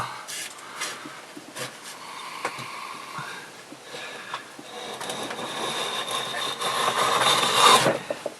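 A wooden rabbet plane cuts a rebate in wood with repeated short scraping strokes, rasping and close, growing louder toward the end, with no talk.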